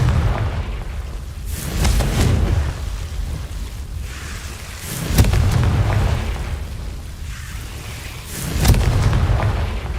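Confringo blasting spell explosions in Hogwarts Legacy, played on PS5: three separate booming blasts a few seconds apart, each bursting loudly and then rumbling away under a steady ambient bed, with no voices.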